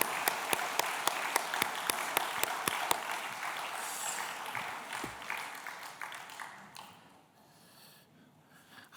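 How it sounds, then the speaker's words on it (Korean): A church congregation claps in strong, sharp, unison beats that soon dissolve into looser, thinning applause and fade to near quiet. "우리 다시 한번 박수로"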